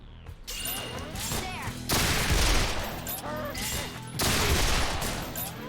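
Video game gunfire comes in bursts of rapid shots and crashing blasts, loud and dense, with two heavier volleys. It plays under a faint game soundtrack.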